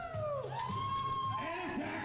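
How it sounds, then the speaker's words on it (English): Wrestling crowd at a tag team championship match cheering steadily throughout, with whoops and yells rising over a continuous roar of voices. "You can hear this crowd is extremely on the side of Chris Turner and Logan Stevens"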